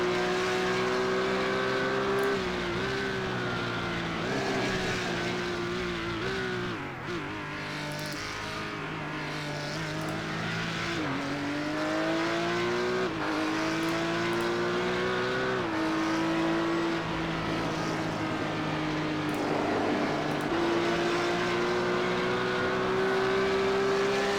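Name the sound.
race car engine heard on board at Barber Motorsports Park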